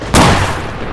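A sudden, loud explosion from the ArmA 2 video game with the ACE mod, a sharp boom followed by a deep, rumbling decay lasting under a second, close and alone.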